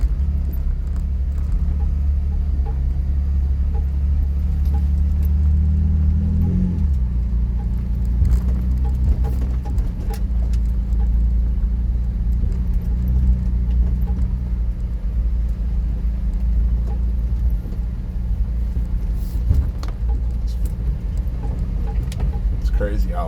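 Off-road truck on 40-inch tires rolls through a wet sand and gravel pit, a steady loud low engine rumble holding throughout, heard from inside the cab.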